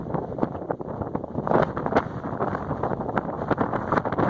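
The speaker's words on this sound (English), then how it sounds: "The wind is brutal." Strong gusting mountain wind batters the microphone high on Mt Meeker in Colorado, a loud rumbling roar with uneven buffeting bursts and no speech.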